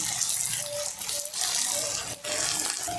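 Water used to rinse a sauce bowl pours into a hot pan of chilli chicken, making a continuous splashing, hissing wash with a brief dip partway, close and alone without talk.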